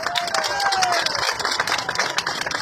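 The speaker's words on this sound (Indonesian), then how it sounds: "Tepuk tangan untuk Tuhan Yesus." A church congregation claps and cheers in a short, lively burst of crowd noise, with whoops and voices mixed into the clapping.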